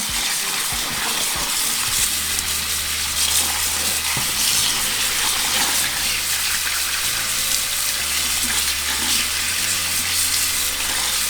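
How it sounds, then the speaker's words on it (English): Cold tap water runs continuously over raw meat being rinsed for menudo, splashing with a bright hiss and occasional clinks near the start, and no one speaks. "we're going to run it with cold water"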